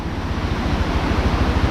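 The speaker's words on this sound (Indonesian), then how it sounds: "mendengarkan suara gemericik air" River flowing beside a village house at the forest edge, a steady broad rush of water blended with wind buffeting the microphone, continuous and unbroken.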